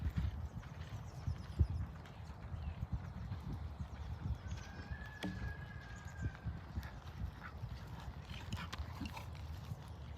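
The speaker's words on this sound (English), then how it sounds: "try to practice a little more forward canter" A horse canters in a riding arena, its hooves making faint, rhythmic beats on the footing, distant and partly buried in background noise.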